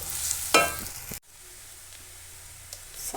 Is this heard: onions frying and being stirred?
yes